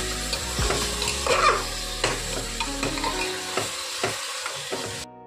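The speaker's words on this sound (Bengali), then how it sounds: "দিয়ে ভালো করে নাড়াচাড়া করে নেবো।" Onion and green chilli frying with salt in a pan, stirred with a series of distinct scrapes and knocks over a close, crackling sizzle that cuts off abruptly at the end.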